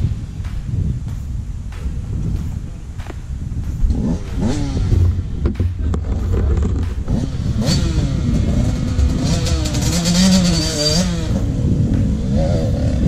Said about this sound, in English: Pop the clutch, Decky!